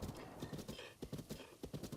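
Horse hooves clip-clop in the video game The Legend of Zelda: Breath of the Wild, a quick, even run of soft thudding steps, faint and continuous, with no talking.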